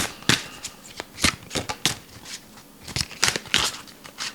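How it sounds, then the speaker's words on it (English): Judy Hall crystal card deck shuffled by hand, a run of crisp riffling bursts in an irregular rhythm, close and clear, with no talking over it. "Judy Hall deck. Let's give it a shuffle."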